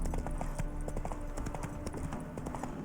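Hooves of the horse Roach clip-clop steadily in The Witcher video game, a quiet, even trotting rhythm of distinct knocks over a low background bed with no clear speech.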